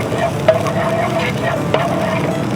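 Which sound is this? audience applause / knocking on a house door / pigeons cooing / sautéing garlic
sautéing garlic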